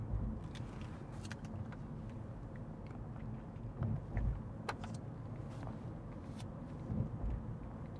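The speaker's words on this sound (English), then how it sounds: "Darn truck." Truck rolling past on a multi-level road, a low steady rumble with faint clicks and rattles, moderately distant and without talk.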